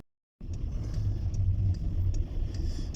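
A car driving along a city road, heard from inside as a steady low engine and road rumble that starts abruptly and continues evenly, with no talking.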